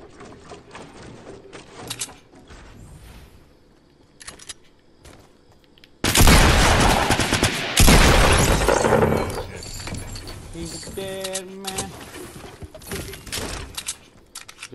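Gunfire in the Fortnite video game: scattered quiet shots at first, then a sudden loud burst of rapid automatic fire and impacts that thins into sporadic shots and electronic game effects.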